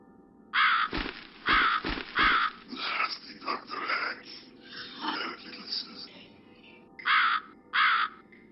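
Crow cawing in the video game The Cat Lady, several loud, harsh, raspy caws in bursts, mixed with a rough, croaking voice in between.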